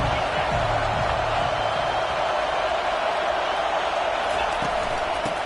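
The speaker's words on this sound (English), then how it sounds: "Big 3rd down as the crowd gets behind this defense." Steady crowd roar from the stands at a Michigan vs Iowa college football game during a third-down defensive stand, loud and continuous with faint thumps underneath.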